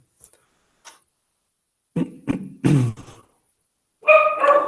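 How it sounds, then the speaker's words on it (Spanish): Dog barking outside a window, a few short sharp barks in separate bursts with silent gaps, moderately close and standing alone. "tengo un perro acá que me ladra por la ventana"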